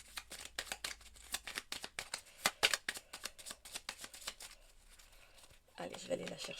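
Oracle cards being shuffled and drawn at a tarot reading, a fast run of crisp flicking snaps close by, then rustling under a voice near the end.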